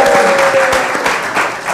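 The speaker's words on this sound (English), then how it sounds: "Give yourselves a round of applause." Ravens fans gathered in a sports bar on Coastal Highway in Ocean City applaud themselves in a short, loud burst of close, crowded clapping.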